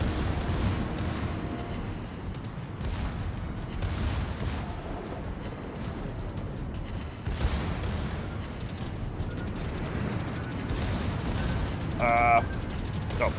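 Naval gunfire in a warship video game: heavy turret booms and rumbling explosions roll through, with a brief mechanical launch sound near the end, under steady game noise.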